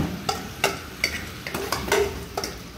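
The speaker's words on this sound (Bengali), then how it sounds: "এখানে আলু ফুলকপির তরকারিটা হচ্ছে।" A potato and cauliflower curry stirred in a pan, with a run of distinct spoon scrapes and clinks at a roughly regular pace over a low frying sizzle.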